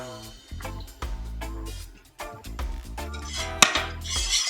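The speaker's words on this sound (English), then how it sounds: "I need to continue to stir, you know, so I'm stirring." A pot of Jamaican cornmeal porridge being stirred, with repeated metallic scrapes and clinks of a utensil against the pot in an uneven rhythm, close and fairly clear with no talking.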